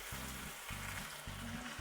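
Green salsa poured onto purslane in a hot pan gives a loud, steady sizzle with a few rhythmic low pulses beneath it, close up and with no voices.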